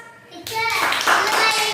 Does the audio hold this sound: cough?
no